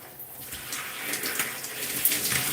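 Running water pours steadily over shampooed gray natural curly hair as it is rinsed, a continuous close hiss and splash with small surges and no talking.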